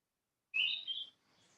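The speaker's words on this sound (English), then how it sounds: "The bird behind you agreed." A bird sings a single bright chirping phrase that rises sharply out of silence, clear and fairly close, then trails off into a faint, quieter call with no talking over it.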